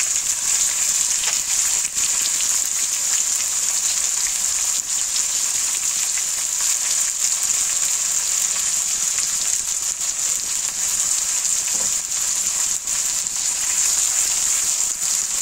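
Carrots stir-frying in a pan for chowmein give a continuous dense sizzle, close and steady, with faint scattered crackles and no talk over it.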